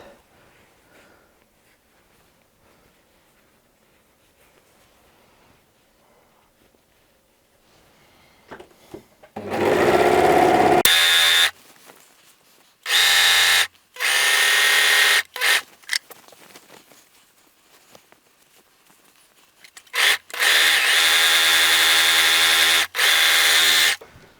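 A sewing machine stitches the side seam of a sweater from wrist down, running in several loud bursts of rapid motor whirring separated by quiet pauses.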